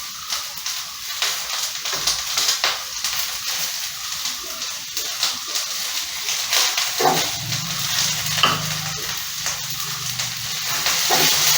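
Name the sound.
chopped onion frying in coconut oil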